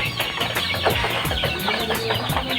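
A large flock of 23-day-old layer chickens calls continuously in a shed, a dense, fairly loud layer of overlapping clucks and peeps with no gaps.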